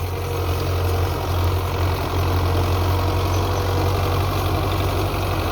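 A Belarus 510 diesel tractor pulling an 18-disc harrow in a field, engine running with a steady loud low rumble and knocking throb, close and continuous, no voices.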